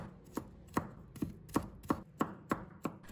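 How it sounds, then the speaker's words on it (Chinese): A knife chops garlic into mince on a cutting board with eight sharp, evenly spaced knocks, close and clear with no voices. "再改刀剁成蒜末"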